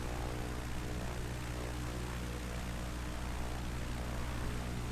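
A Cessna 152 propeller airplane in Microsoft Flight Simulator drones steadily with a constant engine and propeller hum, loud and unbroken with no voices.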